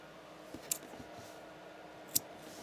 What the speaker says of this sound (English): let me grab my scissors real quick